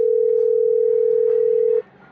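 A steady, loud phone dial tone on a call, one continuous pure pitch held for nearly two seconds, then cut off to leave faint room noise.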